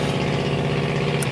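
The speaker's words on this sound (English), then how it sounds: "Hey, dude, you need a muffler." A loud car engine with no muffler idles and rumbles nearby from outside, a steady throaty drone with no other sounds.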